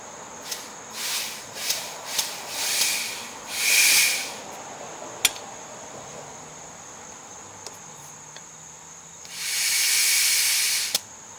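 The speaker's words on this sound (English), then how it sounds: "Should be enough air in my compressor." An air compressor hisses air into the tube tire of an Ariens 824 snow blower, in two bursts: a short one, then a longer steady one near the end. Small clicks and quiet pauses fall between them.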